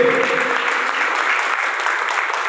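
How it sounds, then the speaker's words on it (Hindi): Audience at a gathering breaks into strong, continuous applause, close and steady throughout, with a brief voice at the start. "इनके लिए जोरदार तालियां होनी चाहिए।"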